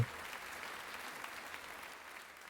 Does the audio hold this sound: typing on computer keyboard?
no